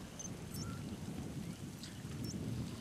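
A thunderstorm rolls through Metal Gear Solid V: The Phantom Pain as a steady low rumble of rain and distant thunder, with a few faint high chirps over the continuous wash.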